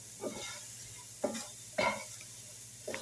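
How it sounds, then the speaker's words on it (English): A spoon stirs onions frying in a pan in a few short scraping strokes over a soft, steady sizzle, quiet and close. "I'm going to stir the onions up."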